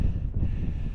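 Strong wind on a mountain summit at the Grand Canyon buffets the microphone in a steady low roar with gusty pulses, loud and continuous throughout.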